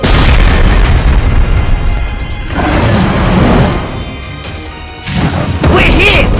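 A cannon shot and explosion in a LEGO Ninjago animated scene: a loud booming blast with crashing impacts over dense, continuous action sound, repeated bursts across the clip.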